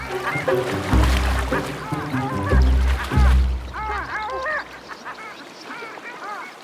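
Long-tailed ducks call in a loud, nasal chorus of honking, yodelling notes, several birds overlapping nearby in Scotland, quieting toward the end.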